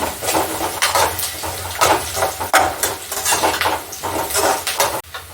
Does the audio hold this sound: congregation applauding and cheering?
no